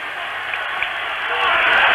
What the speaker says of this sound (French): Le public applaudit son équipe.